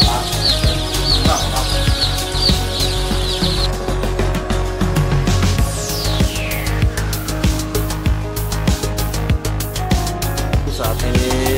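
Free-range village chickens (ayam kampung) at a chicken farm, clucking in a dense, steady flock murmur with chirps and occasional wing flaps, close and fairly loud throughout.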